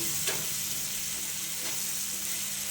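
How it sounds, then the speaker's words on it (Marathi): Chili thecha stir-fried in oil gives a dense, even sizzle that runs throughout, with a few faint scrapes of a spatula stirring in the pan. "छान तेल आणि ठेच्याचा एक एकजीव होईपर्यंत आपल्याला तेलामध्ये हे परतत राहायचं आहे"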